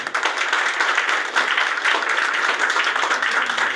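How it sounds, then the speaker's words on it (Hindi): A crowd at a gathering about a basic tailoring and fashion design course applauds steadily, a dense, even wash of many hands clapping close by that holds for several seconds without a break. "तालियां होना चाहिए, तालियां।"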